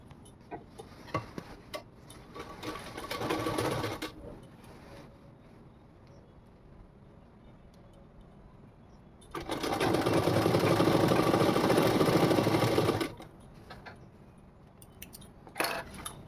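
A domestic sewing machine stitches a fall onto a saree in two bursts, a short run then a longer steady whirring stretch, with quiet handling and small ticks between and a brief restart near the end.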